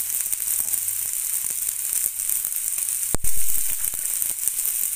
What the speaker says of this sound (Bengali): কপির ডাঁটাটাকে একটু আগে ভালো করে ভেজে নিতে হবে।